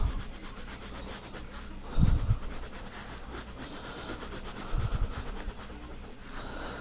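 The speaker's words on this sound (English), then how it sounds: "I think I'm going to make it green with my broken green crayon." Broken green crayon rubbing across paper in steady scratchy strokes, close and fairly quiet, with a couple of heavier pressing bursts along the way.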